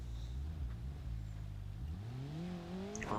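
A damaged car in BeamNG.drive, radiator gone and parts dragging, labors up a hill, its strained engine droning low and steady, then revving and climbing in pitch toward the end.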